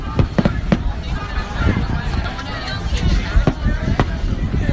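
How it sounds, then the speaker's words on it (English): Fireworks crackle and pop in rapid irregular bursts under loud, busy talking, with sharp reports scattered throughout over a rumbling background. "Those are some good fireworks."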